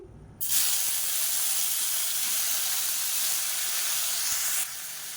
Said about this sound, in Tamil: எண்ணெய் சூடானதும் மீடியம் சைஸாக 2 தக்காளி எடுத்திருக்கேன்.